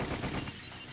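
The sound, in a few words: gunfire in Sweet Fuse video game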